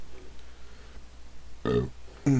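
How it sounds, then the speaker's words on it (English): Two loud burps close to the microphone, a short one followed by a second, longer belch, with quiet room hush in between. "Burp."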